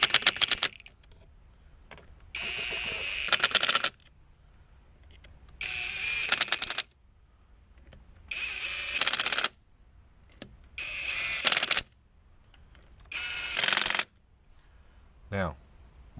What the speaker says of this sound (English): this is a Bauer brushless impact driver